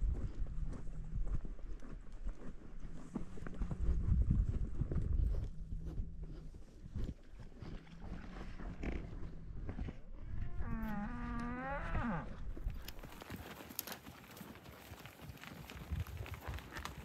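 Cattle moving along with horses on a working ranch, hooves clip-clopping steadily at close range, with occasional lowing and a low moo rising partway through, outdoors with no talk.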